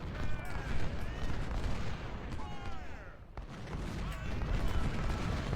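24-pounder cannon artillery fire in the Ultimate General Civil War video game, distant booms and musket crackle rolling under a constant battle din, with a sharp report near the middle.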